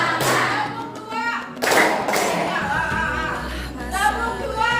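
A school class claps out a rhythmic clapping pattern in short, sharp bursts, with children's and a teacher's voices heard between the claps.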